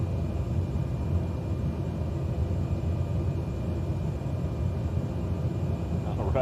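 Airplane engine in Microsoft Flight Simulator 2020 during takeoff, a steady, dense low roar that holds evenly from start to finish with no pauses.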